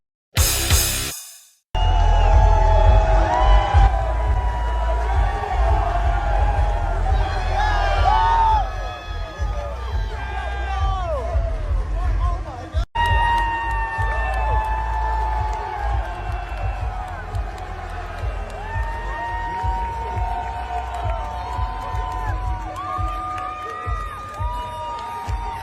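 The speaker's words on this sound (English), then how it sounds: "Look at the crowds going wild" A wrestling crowd roars and cheers wildly through an entrance, with whoops and clapping in a dense, loud, continuous wall of sound. A brief cut comes near the start and a short break midway.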